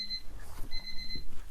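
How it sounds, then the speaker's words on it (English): Alarm clock ringing in a repeated series of short electronic beeps with brief gaps, fairly close and steady over a low background hum, at a crafting table. "is turning that alarm off"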